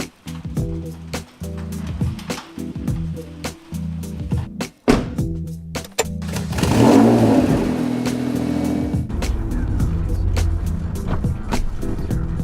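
A Honda NSX pulling away from European Auto Garage, its engine revving up with a steady mid-pitched drone and rhythmic ticks or clicks through the first half, then a louder surge of acceleration and road noise.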